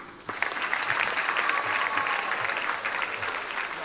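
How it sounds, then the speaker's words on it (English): An audience claps loudly at a Ghana International School 70th anniversary celebration, a dense, steady burst of applause starting abruptly and sustained throughout with a faint crowd murmur underneath. "So clap for him."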